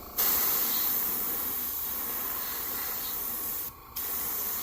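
An airbrush sprays golden fluorescent orange paint onto the belly of a Megabass Sonic Side fishing lure, giving a steady close hiss that runs throughout with one brief pause near the end.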